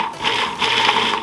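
Short bursts of whirring from a food processor pulsing chopped garlic, two quick pulses close up with no talk over them.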